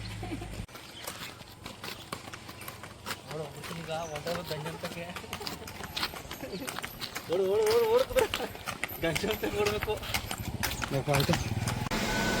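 Horse hooves clip-clop in a quick, steady rhythm close by during a pre-wedding photo shoot, while people talk loudly over them throughout.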